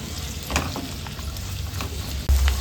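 Cluster beans sizzle steadily as they fry in a pan for a gravy, a soft continuous crackle with a few light clinks and a louder thump near the end, no voices.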